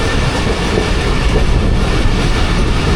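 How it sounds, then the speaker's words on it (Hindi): Passenger train of the Rehman Baba Express pulling into Drigh Road Junction near Karachi, heard as a loud, steady rumble of wheels and carriages filling the whole clip with continuous rattling noise. "ड्रिग रोड जंक्शन पहुंच गई है ट्रेन"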